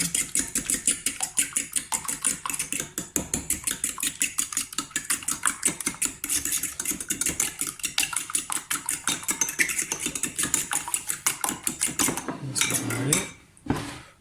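A fork whisks eggs in a bowl for lasagne pasta dough, a fast, even run of metallic clicks against the side that goes on nearly without pause before ending in a short scrape.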